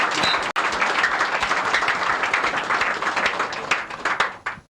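An audience claps together in appreciation of quarantine workers, a dense burst of hand claps that holds steady for several seconds before tapering off and stopping.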